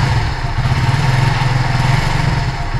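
A Kawasaki W175 Cafe motorcycle engine rumbles loudly and close, a dense throbbing drone held at steady revs throughout.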